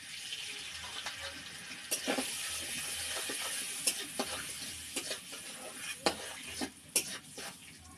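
Turmeric powder and salt go into hot oil in a pan, giving a soft continuous sizzle with scattered sharp clicks and scrapes of stirring, close and moderately quiet.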